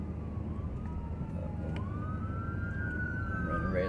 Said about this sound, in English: Here's some sirens somewhere or another.